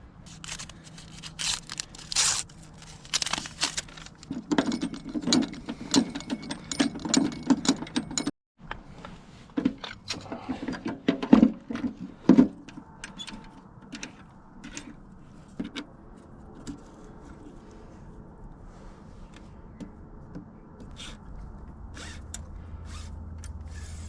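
Metal mechanism clicking and creaking while the wire spool on a welder is swapped out, with irregular close ticks and rattles of handling, a brief pause midway, then a low hum toward the end.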